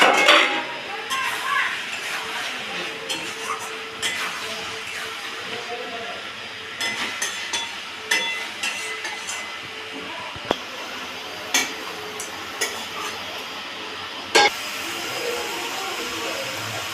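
Fried potatoes are tossed into an oily spice mix and stir-fried in a pan, with repeated spatula scrapes and clanks over a steady sizzle and voices now and then.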